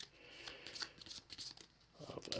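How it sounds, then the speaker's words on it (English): Board game cards being given a quick riffle shuffle on a tabletop during setup of Darkest Night 2nd Edition, a few bursts of papery flutter and clicks over about two seconds, close and moderately loud. "Have a quick shuffle."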